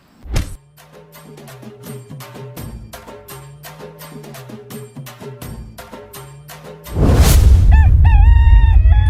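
A rooster crows repeatedly in a steady series of loud, nearby calls over several seconds, followed by a sudden burst of heavy broadband noise.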